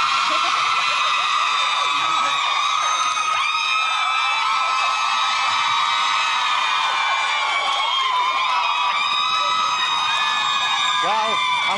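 A TV chat show studio audience screams and whoops without a break, a loud, high-pitched, sustained roar of many voices with occasional louder shrieks.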